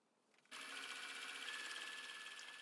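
A sewing machine starts after a brief quiet moment and runs steadily, stitching fabric with a fast, even mechanical whir up close, no talk over it.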